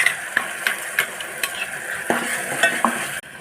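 Onions and ginger garlic paste sizzle in hot oil in a kadai on the stove, with a spoon stirring and scraping the pan in a regular rhythm, close and steady.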